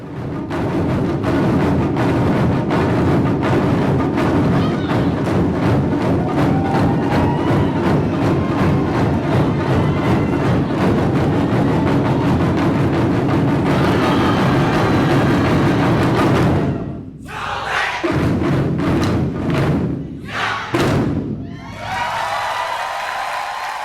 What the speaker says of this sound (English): If you listen, you can hear the banging of Japanese taiko drums throughout the Puget Sound.